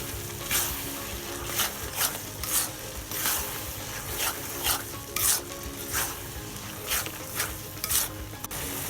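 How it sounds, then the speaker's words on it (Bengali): Black salt is stirred into a gooseberry pickle mixture, giving a soft, rhythmic series of scraping and squelching strokes with a faint sizzle-like hiss, repeated about every half second at close range. "বিট লবণটা দিয়ে নেড়ে চেড়ে মিশিয়ে নিব।"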